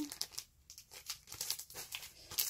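A plastic bag crinkles and rustles up close while merchandise is packed into it, a steady stream of crisp crackles at moderate loudness.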